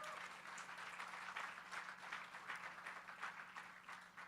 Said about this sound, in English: You can give them a round of applause too